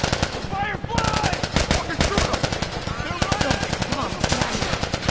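Rapid automatic gunfire in The Last of Us rattles in dense, rhythmic bursts, loud and close, continuing steadily with a few pauses and no talk.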